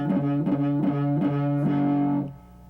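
Electric guitar power chord played with fingers not fully pressing the strings, giving buzzy, muted distorted strums repeated about five times in a steady rhythm, the last one ringing briefly before cutting off.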